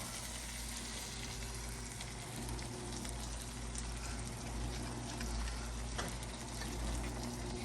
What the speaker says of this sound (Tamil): இப்போ நம்ம ரோஸ்ட் பண்ணி வச்சிருந்த மசாலாவை வந்து பேஸ்ட் ஆக்கி இப்போ ஊற்ற போகிறோம்.